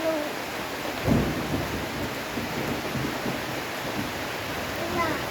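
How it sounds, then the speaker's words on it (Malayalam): Steady rain falls outdoors, a continuous wash of noise with a low rumble of thunder rolling through near the start. "മഴയും പെയ്തല്ലോ"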